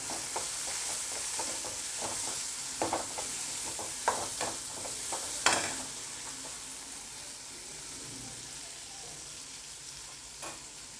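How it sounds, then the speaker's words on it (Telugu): Okra pieces frying in a pan for a Telugu-style bendakaya dish, a steady close sizzle with scattered stirring clicks and scrapes, no voices. "ఇప్పుడు దాంట్లోనే బెండకాయ ముక్కలు కూడా వేసుకొని కొంచెం సేపు మగ్గించుకోవాలి."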